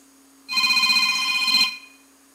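Preset ringtone from a Star A2000 phone plays as a loud electronic ringing tone for about one second, starting and stopping abruptly, heard alone with no talk.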